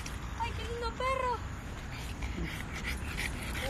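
A dog gives a few short, high whimpers close by, soft and brief, amid light rustling and background noise.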